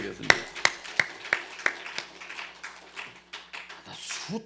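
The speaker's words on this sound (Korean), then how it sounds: "하나님께 영광의 박수 드리겠습니다." Sharp, scattered claps ring out in a church as a congregation offers applause, a few distinct beats at the start thinning into softer taps, with a voice coming in near the end.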